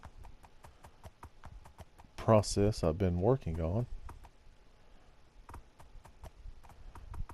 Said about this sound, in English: So we'll just take this horse here